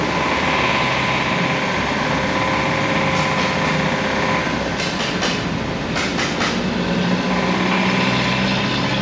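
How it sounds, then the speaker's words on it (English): Idling car engine with a rod knock, held at a steady loud drone with a regular knocking rhythm and some metallic ticking, while individual cylinder injectors are cut one at a time in a repair shop. "I can turn off the injector in one cylinder at a time till I get the noise to change"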